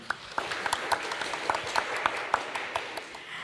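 Scattered, fairly faint clapping from a small audience at a regional development forum, with distinct individual claps standing out over a soft background.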